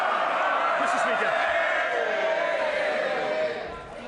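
Members of the UK Parliament cheer and laugh together in the chamber, a dense, steady roar of many voices that eases off near the end.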